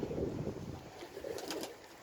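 Pigeons coo softly in low, murmuring phrases on a windy day, with faint bird chatter and a steady airy rush of wind behind them.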